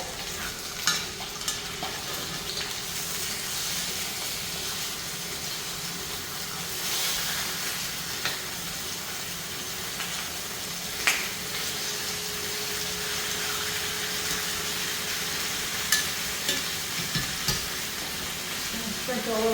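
Lamb chops sear in a hot skillet right after being flipped, a steady close sizzle and hiss running throughout with occasional small pops and clinks, no talking.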